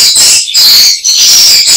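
Swiftlet calls inside a swiftlet nesting house: loud, shrill chirping and squawking that plays continuously, broken by two brief pauses.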